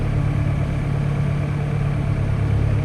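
A tractor engine runs steadily at moderate loudness while turning by a hedge during umbilical slurry spreading in a field, giving a continuous low, throbbing drone without pauses.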